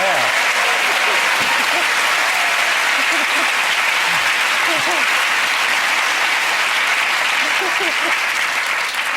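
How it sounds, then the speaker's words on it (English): Studio audience applause on a TV comedy panel show, a loud, dense, continuous clapping that holds steady, with faint voices talking underneath. "No, we get a clap."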